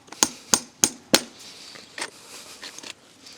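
A farrier hammers a horseshoe nail into a horse's hoof: four crisp, evenly spaced taps up close, followed by a few softer knocks.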